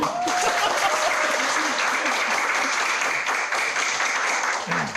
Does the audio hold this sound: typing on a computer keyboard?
no